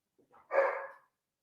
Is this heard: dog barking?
yes